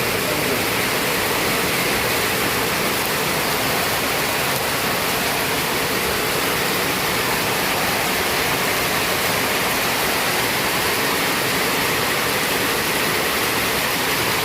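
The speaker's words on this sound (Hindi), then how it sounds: "अच्छा खासा बारिश हो रहा है" Heavy rain pours steadily over a market town in Bhadaura, Ghazipur, a dense, even hiss filling the whole clip with no breaks and no voices.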